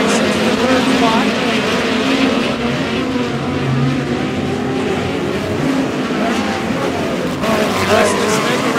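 POWRi West Midget League race cars roar around the Airport Raceway track, engines loud and sustained as they pass close by, with a race announcer talking over the continuous engine noise.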